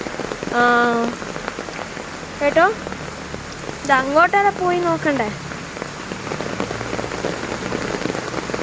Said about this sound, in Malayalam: ഇപ്പം ഞാൻ പഠിച്ചു അതിതീവ്രത മഴയാണ്